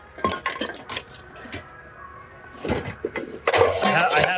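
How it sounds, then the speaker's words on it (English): Metal pots and pans clatter and clank as they are rummaged through in thrift store bins, with repeated bursts of clanging, a brief lull in the middle, then busier rattling, close and fairly loud. "Look at all these pots and pans."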